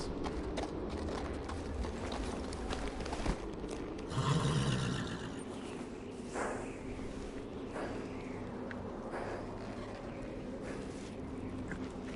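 Horse hooves clip-clop steadily in a PS4 video game at the gate of the Night's Watch by the Wall, a close, regular walking beat that briefly grows louder, with ambient game sound and occasional voices.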